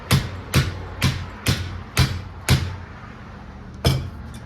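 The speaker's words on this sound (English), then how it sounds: "Let's use the drill as a hammer." Seven sharp metallic impacts strike in a steady rhythm as a drill is used as a hammer on a vise, each ringing briefly before the next, with a longer pause before the final blow.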